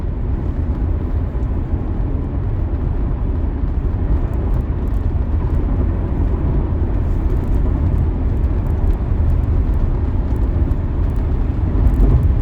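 A Tesla car driving on Full Self Driving Supervised during a long-distance trip, with a loud, steady cabin rumble of road and tyre noise and a constant whir, continuous and unchanging throughout.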